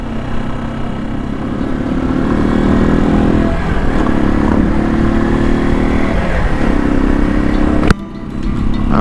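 Griffin 250 production model motorbike engine running steadily and loud, with a sustained mid-range drone that shifts pitch slightly as it revs, then cuts off briefly near the end before resuming.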